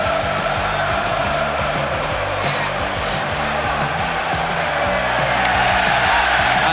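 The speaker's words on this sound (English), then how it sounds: "the crowd cheer once more, seeing it on the big screen" A football stadium crowd roars and cheers continuously as a Pascal Gross goal against Manchester United is replayed on the big screen, with a dense, steady wash of many voices and low rumbling throughout.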